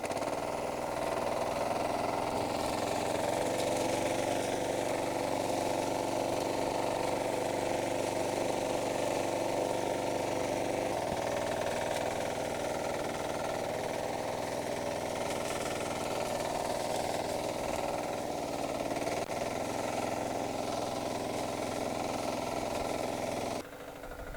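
A tractor engine runs at a constant heavy drone with a mulcher grinding corn stalks underneath, steady and loud for the whole stretch, no voices.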